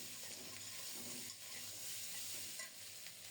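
Potatoes and spices fry in a pan with a steady, close sizzle throughout, broken by soft stirring scrapes. No one speaks.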